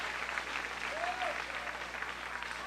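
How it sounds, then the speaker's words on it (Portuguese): A church congregation claps and cheers in a steady, dense wash of applause heard from a distance, with a voice rising briefly above the crowd partway through. "dá mais uma rajada de glória a Deus, misturado com palmas e aleluias para Jesus."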